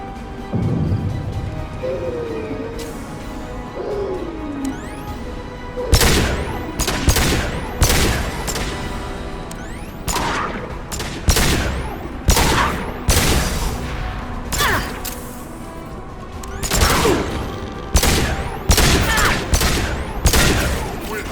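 A firefight in Mass Effect 2 on Insanity difficulty, with loud repeated bursts of gunfire and sharp impacts cracking in irregular volleys over the game's background sound and music.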